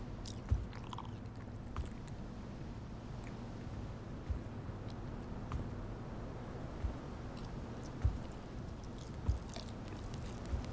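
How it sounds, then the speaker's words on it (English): Wet, squishy chewing and crunching from the video game Not Like Them repeat at an uneven pace over a low steady hum, with occasional sharper bites popping out. "I hear munching"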